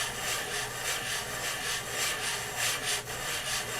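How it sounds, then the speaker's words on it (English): Steady abrasive grinding of a lapping tool worked in a figure-8 pattern inside rifle scope rings, mounting a Nikon first focal plane scope on a Remington 783 heavy barrel; a continuous close rasping scrape with rhythmic swells, no talk. "You just want to kind of work it in a little figure-8 pattern. You can hear it grinding in there."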